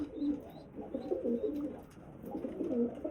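Pigeons coo repeatedly at close range in a loft with squabs and eggs, soft throaty rolling calls rising and falling over a low background murmur.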